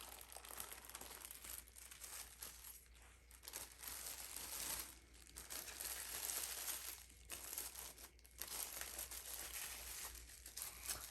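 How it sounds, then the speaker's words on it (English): Plastic film peeled off a large 4 x 12 painted canvas from a poured-paint plastic smash piece, a continuous crinkling, crackling rustle with brief pauses, fairly close and steady, no talking. "let's peel it off and see what we've got"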